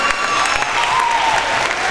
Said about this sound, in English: Let's have a round of applause for our WCGT TV crew